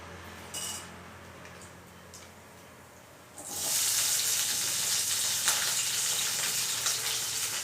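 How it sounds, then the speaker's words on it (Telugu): Tempering spices, green chillies and onions hit hot oil at about three and a half seconds, bursting into a loud, steady sizzle and hiss that continues close up, after a quieter stretch with a few faint clinks. "వేడయ్యాక పోపు దినుసులు, పచ్చిమిర్చి, ఉల్లిగడ్డ వేసి గోల్డెన్ కలర్ వచ్చేంత వరకు వేసుకోవాలి"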